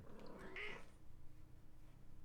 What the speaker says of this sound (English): Meow. Cat.